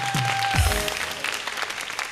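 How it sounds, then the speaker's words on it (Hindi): Studio audience applause on a talk show marking its 50th episode, a short burst of steady clapping with a brief tonal, voice-like sound over it near the start. "तालियां!"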